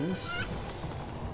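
A chicken in the strategy video game Empires: Dawn of the Modern World gives a single brief squawk at the start, followed by a busy game-sound background with no clear speech.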